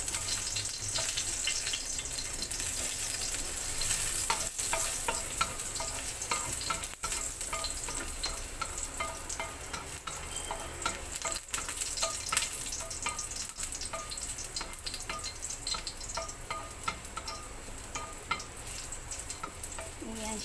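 Chopped garlic frying in a pan for sautéed sardines with alugbati gives a continuous, dense sizzle with crackling pops, steady and close throughout.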